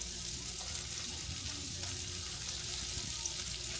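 Bacon frying in a pan for a breakfast sandwich, a steady low crackling sizzle heard close and moderately quiet, with a faint watery hiss underneath and no talking.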